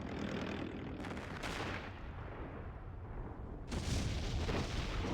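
Celebration fireworks in the video game O.D.T. rumble as dense, continuous booms and crackling blasts, loud and close, with a fresh burst of explosions near the end.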